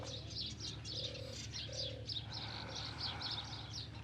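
Doves cooing in soft repeated low calls while smaller birds chirp busily overhead beside the Nile, a faint, steady outdoor chorus with no voices.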